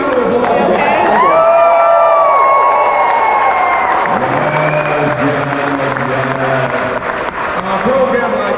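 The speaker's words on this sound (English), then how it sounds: "Give them a round of applause" A crowd at a Shave to Save fundraiser event cheers and whoops with clapping, a loud sustained roar of voices that slowly fades while a voice continues over it.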